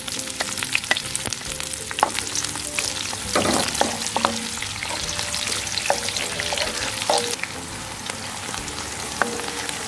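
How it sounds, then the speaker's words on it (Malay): Shallots sauté in hot oil in a wok, giving a steady close sizzle and crackle that runs the whole time, with occasional clinks and scrapes from stirring. "Kita tumis bawang merah, bawang merah, kita tumiskan bawang merah."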